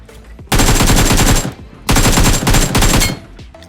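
In BGMI PUBG Mobile, a machine gun fires two long loud bursts of rapid automatic shots, with a short pause between them and fainter game sounds underneath.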